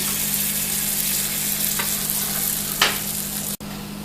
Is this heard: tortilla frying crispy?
yes